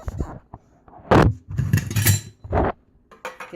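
Kefir yogurt with coconut flavouring stirred in a jar with a long spatula, giving a few scraping clinks and knocks in separate bursts, fairly close and moderately loud, with no talk.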